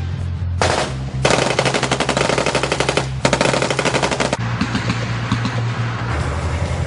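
Army basic training range where many soldiers fire at once, machine guns among them: dense, rapid bursts of automatic fire in two long sustained volleys, loud and close, with scattered shots between and no talk.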